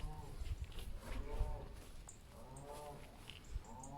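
Cattle low in the countryside near a graveyard and church ruin, with several drawn-out moos at a distance, fairly faint, beside quiet outdoor ambience.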